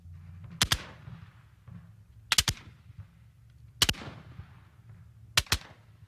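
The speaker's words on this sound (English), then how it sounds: "Firing by file. Commence, fire." Civil War musket company firing by file, sharp reports cracking out in close pairs roughly every one and a half seconds, loud and near over a low rumbling background.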